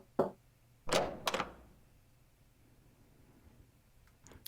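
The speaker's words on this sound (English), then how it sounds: "I quietly knocked on the bedroom door." Knocks on a bedroom door in the video game Cupid Parasite: one short tap, then two firm knocks close together, followed by near silence and a few faint clicks.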